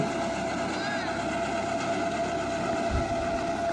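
A crop machine set on wheels and hitched to a tractor runs with its fans spinning, giving a steady, loud engine drone with a constant hum and no pauses.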